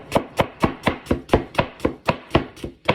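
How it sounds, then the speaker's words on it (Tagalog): A knife slices thinly through onion for dinakdakan, an Ilocano dish, making eleven even, crisp chops against a cutting board in a steady rhythm, close and clear with no talking. "Ini-slice ko lang siya ng maninipis guys."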